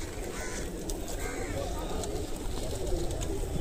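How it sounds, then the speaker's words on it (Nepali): A flock of pigeons coos softly at Pashupatinath Temple in Kathmandu. The cooing sits within a busy outdoor wash of crowd noise and murmuring voices. "परेवाहरूको यहाँ कति सङ्ख्या छ"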